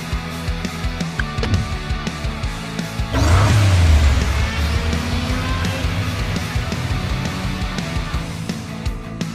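In the Hot Wheels Unlimited game, a toy car's engine bursts into a loud revving roar at the start of a race, then settles into a steady drone under a busy game soundtrack.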